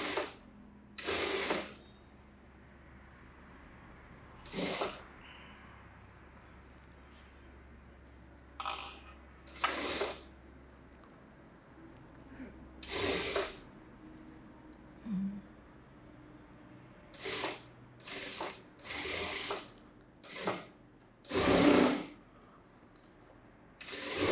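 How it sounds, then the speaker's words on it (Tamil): Sewing machine stitching a princess blouse with a front-open collar neck, about a dozen short separate bursts of whirring stitches spaced across the clip with quiet pauses between them, close and clear. "கரெக்டாக அந்த ரோலிங்கில் வருதான்னு பார்த்ததுக்கப்புறம் தையல் போடணும்."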